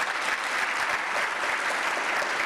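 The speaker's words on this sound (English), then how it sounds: "another big round of applause for this panel" Applause from a conference audience at an aviation industry event, a dense, steady wash of many hands clapping that holds evenly throughout without any voices.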